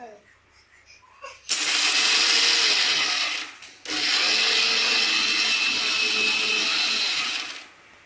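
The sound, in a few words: mixer grinder grinding tamarind, garlic, cumin, peanuts, green chilies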